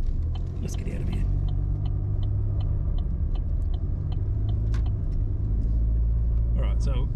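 A car drives around town, its engine and tyre rumble steady and close from inside the cabin, with faint ticking and small clunks over the continuous drone.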